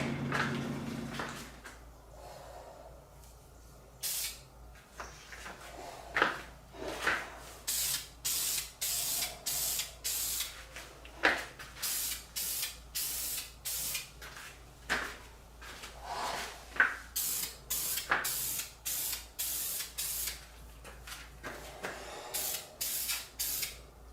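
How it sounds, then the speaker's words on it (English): Repeated bursts of a spray gun hissing as it sprays lacquer finish in a garage, short sprays in a steady rhythm with brief pauses between, close and fairly loud. "So I'm going to take this out into the garage and we'll go ahead and spray it."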